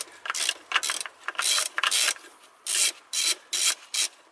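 A ratchet wrench with a 12mm socket turns a bolt loose on the throttle body of a 2000–2010 Toyota Corolla, giving a run of close, dry clicking bursts in uneven strokes, some quick and some longer, with no voices.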